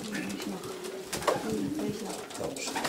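Soft racing pigeon coos sound close by amid general background noise and murmuring, a few low throaty calls rising and falling, in a pigeon loft.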